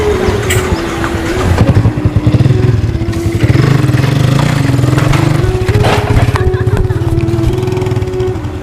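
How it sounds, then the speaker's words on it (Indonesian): A motorcycle engine, a Kawasaki Ninja, runs steadily and loudly close by for the whole stretch, its low droning note rising and falling slightly with the throttle. "Baru punya motor rosokan aja."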